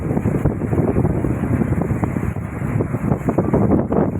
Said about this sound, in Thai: มันเป็นลมพี่น้อง เนี่ยว่าลมแรงลมแรงมาแล้ว